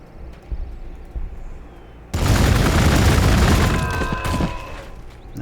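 Units open fire in Warhammer 40k Gladius, a sudden wall of dense overlapping gunfire and booms that keeps rattling for several seconds after a few faint clicks, loud and close.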